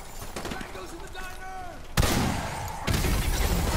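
Gunfire in Call of Duty, a quick run of shots followed by two loud heavy blasts, close and sharp, with a voice briefly audible early on.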